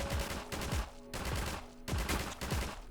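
Rapid bursts of gunfire from a combine soldier in Garry's Mod, sharp repeated shots in clusters with brief pauses, loud and close, no talking.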